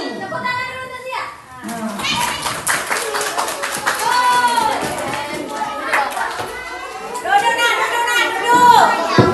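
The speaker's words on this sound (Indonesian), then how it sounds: "Tepuk tangan dulu untuk Zia" Children at an elementary school Isra Mi'raj event clap in bursts amid lively chatter and shouting, with an adult voice and kids' voices mixed over the uneven, close clapping.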